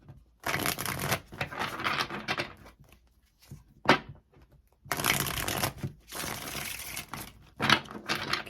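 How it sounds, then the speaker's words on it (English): Tarot cards being shuffled in several loud papery bursts of riffling and sliding, close up, separated by brief pauses, with no talking. "I'll get the cards out first"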